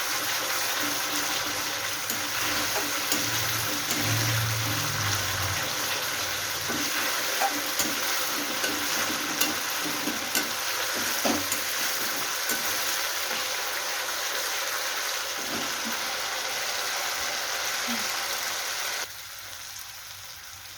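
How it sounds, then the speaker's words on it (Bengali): Masala being sautéed in oil for a doi rui fish curry, a steady close sizzle and frying hiss with intermittent scraping and stirring knocks, running continuously before easing off near the end. "তেলটা এত সুন্দর কষানো হয়েছে যে তেলটা পুরো কিন্তু ওপরে চলে এসছে। ভালো করে কষাতে হবে।"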